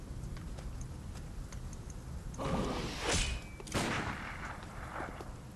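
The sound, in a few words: gunshot in the video game Bloodborne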